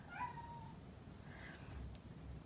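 A cat meows from behind a door at a crafting table where a multi-strand bracelet is being beaded, one clear rising meow near the start and a fainter second call about a second later over steady low room noise.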